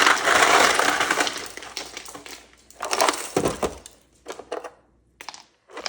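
A whole freezer's worth of ice is tipped into a tub for turkey brine: a loud, rushing crash of cubes first, then scattered clatters and rattles as the last pieces tumble in.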